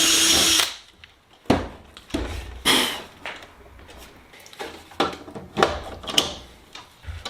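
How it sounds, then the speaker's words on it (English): A power drill bores cleco holes through a Sonex aircraft fuselage side panel in a series of short, loud bursts separated by pauses and light handling noises, recorded close up. "I'm just going to go ahead and continue up drilling these cleco holes here and putting in my copper clecos"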